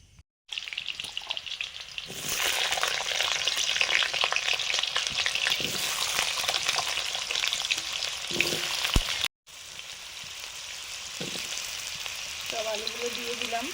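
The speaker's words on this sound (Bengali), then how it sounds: "জিরে দিলাম, গোটা জিরে।" Whole cumin seeds frying in hot oil at the start of a potato curry, a loud, close, continuous sizzle with a brief break partway through.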